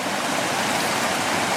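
A waterfall at Coniston Coppermines in the Lake District roars in a steady, dense rush of falling water, loud and close, with no voices.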